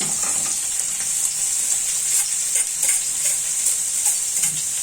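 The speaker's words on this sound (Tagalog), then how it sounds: "Igisa lang natin siya ulit" Chicken with ginger sautés in a pan, giving a steady sizzle broken by scattered stirring clicks and scrapes, close and alone.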